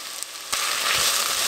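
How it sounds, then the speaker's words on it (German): Vegetables, onions and tomato paste fry in a pan with a loud, steady sizzle that swells after a brief stir, close up and without voices. "Ihr müsst immer alles schön anbraten. Das Gemüse, die Zwiebeln."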